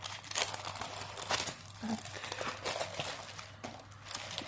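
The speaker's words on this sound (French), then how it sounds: "Je vais vous montrer la toile. Elle a l'air petite, pourtant c'est une 30 par 40. On va la déballer." Plastic wrapping crinkles and crumples as a 30 by 40 diamond painting canvas is unwrapped, with irregular rustling bursts and small tearing sounds, close and moderately loud, and no talking.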